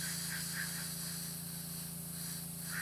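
Food coloring sprays through a stencil onto a cookie from an airbrush held close, giving a soft continuous hiss with a faint steady hum underneath and small pulsing puffs.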